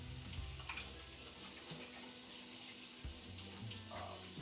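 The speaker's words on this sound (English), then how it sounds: "You will probably hear some tap ASMR." Tap water runs steadily into a sink during handwashing in a home kitchen, a soft continuous splash with faint clinks, fairly quiet and without talk.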